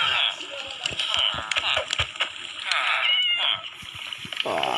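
Cats meowing in the video game Minecraft, several short meows heard under and between a person talking.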